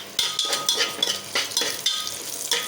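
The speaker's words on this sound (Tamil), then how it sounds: "இப்போ வெங்காயம் நல்லா வதங்கிடுச்சு" Onions sauté in a pan with cardamom and cloves for beef biryani, sizzling steadily under repeated rhythmic stirring strokes and light metal clinks from a spoon against the pan.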